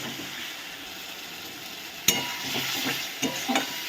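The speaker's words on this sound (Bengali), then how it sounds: "এবারে আমি মশলাটাকে ভালো করে কষিয়ে নেব" Spice paste for chicken kosha is sautéed in a pan and stirred, giving a steady close sizzle. Sharper scraping strokes of the spoon against the pan come in the second half.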